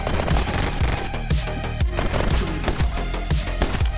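Dual Uzis fire nonstop in the video game My Friend Pedro, a dense, loud burst of rapid automatic shots that rattles on for the whole stretch.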